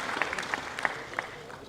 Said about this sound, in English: Let's all once again give a huge round of applause to the Honorable Chief Minister.